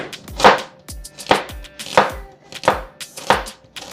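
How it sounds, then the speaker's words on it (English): A knife chops carrots into small pieces on a cutting board, about six sharp, evenly spaced strikes at a steady rhythm, close and clear, with no talking. "I'm gonna just go ahead and chop them up into small pieces"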